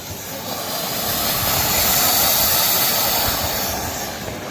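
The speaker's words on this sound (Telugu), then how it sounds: "చిచ్చుబుట్లు పేలుతున్నారు వెనకరండి డాడీ." Deepavali flower pot fireworks spray in a loud, continuous roaring hiss that swells and holds steady for several seconds, with dense crackling bursts underneath.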